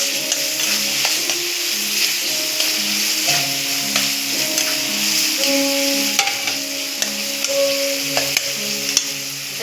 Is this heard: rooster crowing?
no